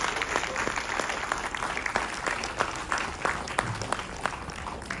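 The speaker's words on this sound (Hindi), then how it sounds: "तो एक बार जोरदार तालियां।" Audience applause after a stage play, a steady, dense patter of many hands clapping that carries on for several seconds at moderate distance, with no voices over it.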